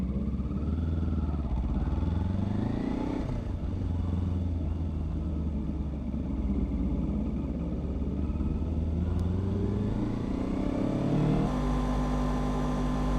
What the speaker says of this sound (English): Just all the bikes just rumbling.